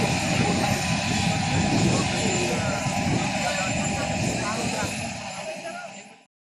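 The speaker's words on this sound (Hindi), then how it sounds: "सीएम शिवराज डुमना विमानतल से कटनी जिले के विजय राघवगढ़ की बंजारी तहसील के लिए हेलीकॉप्टर से रवाना हुए" A helicopter lifts off from Dumna airport near Jabalpur, its loud steady rotor and turbine roar filling the air before fading and cutting off, with a voice speaking over it.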